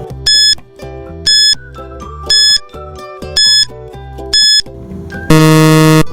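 A quiz countdown timer plays a repeating pattern of bright beeping tones in regular bursts over a pulsing low rhythm, loud and alone, ending in a sustained buzzer-like chord.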